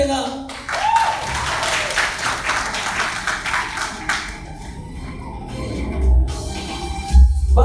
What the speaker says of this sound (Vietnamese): chúng ta cho một tràng vỗ tay